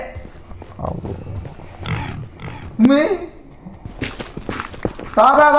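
A Minecraft pig gives several short grunts and squeals inside the game, mixed with footstep sounds, while children talk over it.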